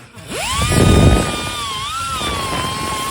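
An air-powered tool spins up on a 1974 Ford F250 truck bed floor, rising quickly to a loud, close, high-pitched whine that holds steady with slight pitch wavers.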